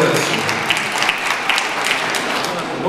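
Audience applause at an outdoor folk festival in Kramsk, a steady broadband clatter of many hands lasting the whole few seconds, with a few sharper claps standing out and voices mixed in underneath.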